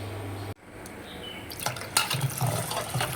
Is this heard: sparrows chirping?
no